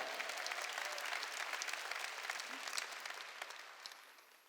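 A church congregation at a Wednesday worship service claps steadily, a dense even patter of applause that gradually tapers off toward the end.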